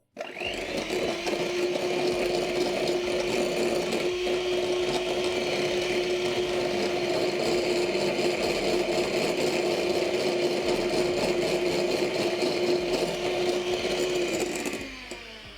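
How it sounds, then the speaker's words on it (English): A steady mechanical whirring hum of a mixer whisking a mixture with meringue powder runs continuously at a constant pitch, loud and unbroken, then winds down at the end. "We'll whisk that again."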